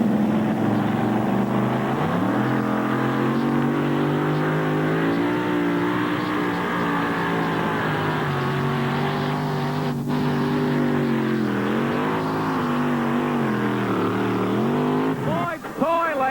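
A pulling vehicle, a Porsche with a Chevrolet engine, revs and roars at high volume at a 1988 NTPA two-wheel-drive truck pull in Tomah, Wisconsin, pitch rising and falling through gear changes, with a commentator talking over it.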